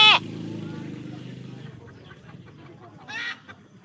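A chicken gives a couple of short squawks and low clucks, close by, with a brief louder call near the end.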